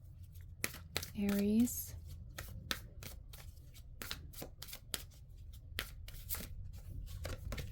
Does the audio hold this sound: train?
no